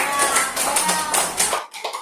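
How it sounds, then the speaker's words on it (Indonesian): A classroom of students claps together for a classmate, a dense, close round of applause that stops abruptly near the end, followed by a few scattered claps. "tepuk tangan untuk Tabina."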